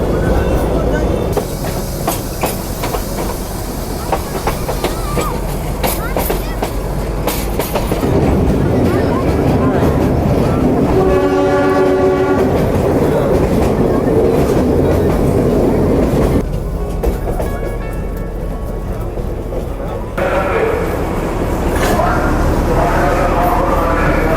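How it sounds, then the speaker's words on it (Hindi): The Darjeeling toy train runs through a busy market, its carriages rolling loudly and steadily with rhythmic clickety-clack and wheel rumble close by, a brief whistle-like tone partway through, and people's voices mixed into the din. "और मार्केट के बीच से हमारी ट्रेन निकली है।"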